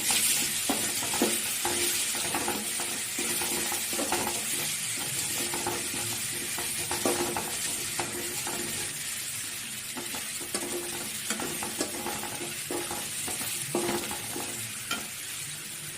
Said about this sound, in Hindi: अदा रसुण भाजीवा।